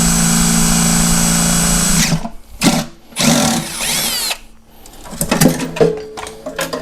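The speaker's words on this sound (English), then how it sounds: "Drill long enough and you'll get her open" A power drill whines steadily into the lock of a Hornady Night Guard safe, then stops and restarts in short bursts with grinding, rattling metal contact, loud and close.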